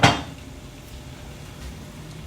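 A spatula clinks against a pot in one sharp metallic hit while glutinous rice balls for tang yuan go into boiling water, followed by a steady wash of bubbling from the pot.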